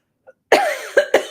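A short burst of three close, harsh coughs in quick succession after a tiny breath.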